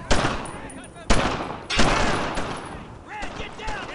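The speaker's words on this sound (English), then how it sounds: "I'm taking some fire! Put some fire on him!" Gunfire in the video game Brothers in Arms: Earned in Blood crackles in loud, close bursts and single shots through the whole stretch, with a shouting voice mixed into the battle noise.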